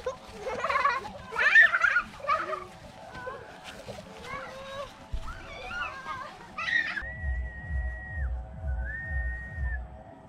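A person whistles in wavering, drawn-out tones, ending in a long steady note, while people talk nearby outdoors.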